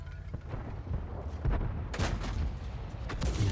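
A tank cannon shot rings out in a World of Tanks-style game on the Himmelsdorf map, a sharp broadband blast around the two-second mark amid continuous battle rumble and scattered smaller impacts.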